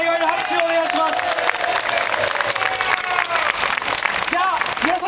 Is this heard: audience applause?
yes